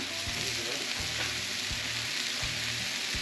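Brined, rubbed butterflied chicken legs sizzle steadily in oil on a hot griddle, a dense, even hiss with a few soft low thumps and no talking.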